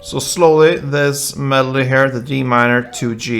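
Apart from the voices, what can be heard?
None of the usual background noises is heard.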